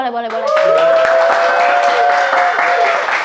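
Comedy club audience applause and cheering rolls on continuously at close range, with a voice rising over the clapping throughout.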